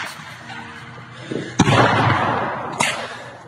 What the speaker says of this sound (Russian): БК взрывается.